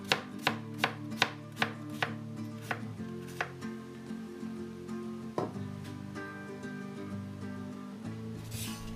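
Knife chopping through carrots on a cutting board for Vietnamese pickled vegetables, a quick run of sharp, evenly spaced chops that slows to sparser cuts, close and alone with no talk.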